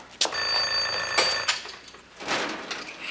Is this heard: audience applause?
no